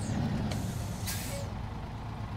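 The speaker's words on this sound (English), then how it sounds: "Whoops, parking brake." Truck in the off-road driving game SnowRunner letting out sharp hissing bursts of air from its parking brake over a steady low engine idle, with a short hiss followed by a louder one close by.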